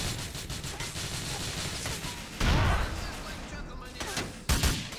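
A grenade exploding in GTA IV: two heavy, booming blasts over a constant bed of game noise and gunfire, the first louder and longer, the second brief near the end.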